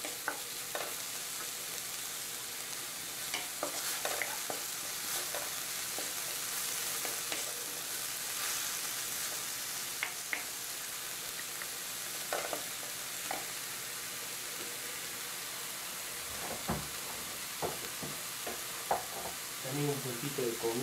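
Aderezo seasoning sizzles steadily in a pan while a spoon scrapes and stirs at intervals, with a few louder clinks and knocks near the end and no talk.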